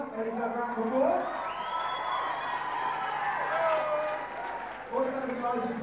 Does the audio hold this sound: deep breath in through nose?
no